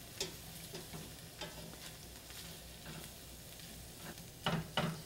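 Tempeh sautéing in coconut oil in a pan that is not yet very hot, giving a steady soft sizzle with light stirring scrapes and a few louder clatters near the end, with no voices.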